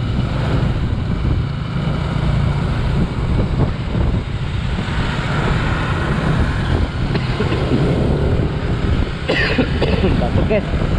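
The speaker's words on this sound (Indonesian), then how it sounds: "Batuk guys" A person coughs several times while traveling along a busy congested road, with steady vehicle and wind rumble underneath and some talking.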